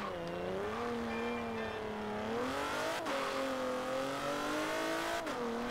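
A car in the racing game Forza Horizon 4 drives with a steady, loud engine drone that rises and falls through gear changes, with brief dips at shifts and no talk over it.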